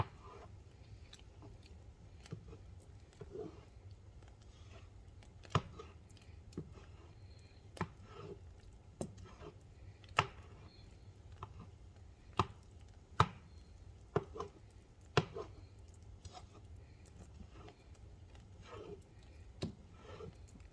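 Cooking tomatoes for tomato soup broken up in a pot with a utensil, a quiet series of scattered soft clacks and squelchy thuds at irregular intervals over a low background hum.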